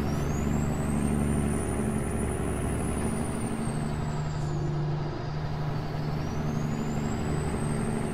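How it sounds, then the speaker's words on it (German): A truck's air brake hisses in American Truck Simulator against a steady low engine idle, with a high whining tone rising and falling in the background. "Ach, hör da einmal die Bremse hier."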